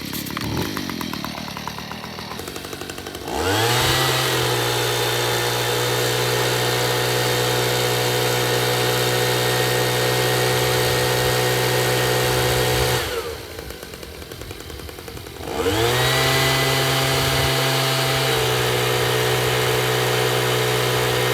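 A leaf blower revved up near a small DJI Mavic Mini drone outdoors, giving a loud, steady high whine and roar that holds for about ten seconds, cuts out briefly, then starts up again at full strength.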